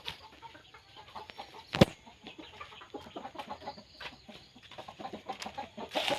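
Chickens kept out in a rice field give soft, scattered clucks at a moderate distance, with a rooster-like call now and then over steady open-air background hiss.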